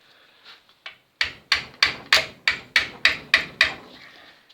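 A small hammer taps metal on the rocker arm of a classic car engine, about nine sharp, evenly spaced knocks close up, after a few softer preliminary taps.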